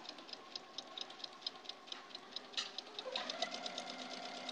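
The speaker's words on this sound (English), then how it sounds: "I just gently and slowly sew over the pins" Domestic sewing machine stitching slowly over pins while piecing a Churn Dash quilt block, a quiet even run of ticking needle strokes close by that speeds up slightly near the end.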